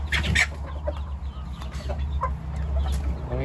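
Fighting roosters cluck and call on a rural Thai farm, with short, throaty bursts repeating at irregular intervals over a constant low background hum.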